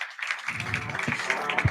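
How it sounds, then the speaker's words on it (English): An audience at an academy event claps in a brief, lively round of applause, with many overlapping hand claps heard at close range and a voice speaking over them. "Round of applause."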